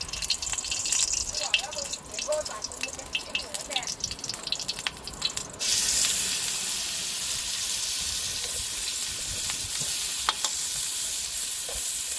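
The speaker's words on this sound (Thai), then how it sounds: "เดี๋ยวจะดูพี่วิก็ผัดนะ" Beef with dried bird's eye chilies and holy basil is stir-fried in a wok at a small food shop, with a few utensil clinks and faint voices at first, then a loud, steady roaring sizzle.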